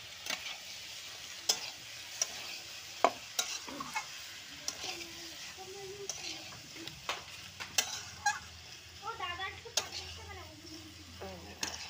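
Cumin and coriander seeds frying in a pan, giving a faint sizzle broken by sharp scraping stir clicks, with a voice speaking over the cooking.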